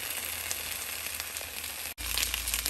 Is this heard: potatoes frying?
yes